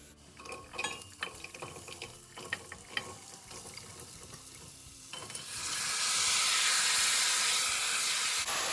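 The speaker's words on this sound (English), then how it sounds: "after mixing a little, add your potatoes" Potatoes go into a hot pan already holding turmeric-spiced oil for aloo curry, and a broad, loud sizzle rises and holds steadily after a few seconds of clinks and stirring sounds.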